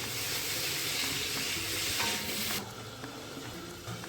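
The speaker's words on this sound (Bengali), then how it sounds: "চিংড়ি মাছটাকে হালকা ভেজে নেব।" Prawns fry lightly in turmeric and mustard oil in an iron wok, giving a loud, steady sizzle and hiss that drops sharply to a softer crackle partway through, with no talking.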